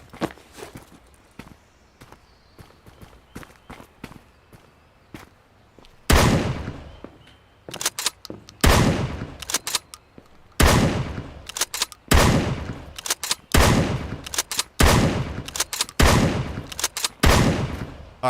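Shotgun blasts in the game Road to Vostok, a series of loud, evenly spaced booming shots following quieter clicks and footsteps, each with a short decaying tail.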